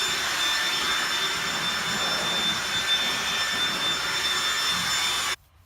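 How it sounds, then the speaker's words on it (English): Compressed air blows sawdust off a piece of furniture that has been hand-sanded to 220 grit. A loud, steady, close hiss runs without a break and then cuts off abruptly near the end. "So once your piece has been completely blown off of all sawdust"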